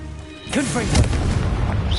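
A Confringo explosive spell blast in Hogwarts Legacy, a brief booming burst right after someone shouts the spell name, followed by rumbling game effects.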